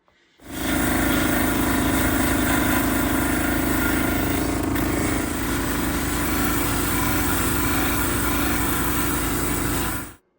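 A polishing machine runs steadily on its third wheel, giving a loud, continuous broadband whir that starts after a second of quiet and holds evenly for about nine seconds before cutting off.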